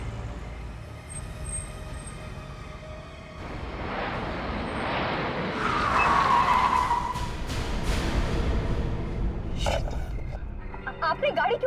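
A car on the road skids with a long tire screech over a loud rumbling engine, then slows and comes to a stop, heard close amid dramatic background sound.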